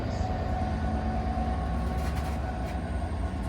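A Class 66 diesel locomotive hauling an engineers' train through Deal station, a loud, close, continuous heavy rumble with deep engine drone and wheel noise filling the whole stretch.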